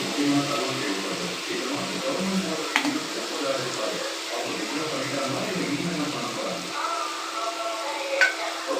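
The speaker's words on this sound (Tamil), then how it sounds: "இப்போ முட்டையை உடச்சி ஊற்றிக்கலாம்." Eggs frying with drumstick leaves in a pan, a steady close sizzle with occasional stirring and scraping, talk over it.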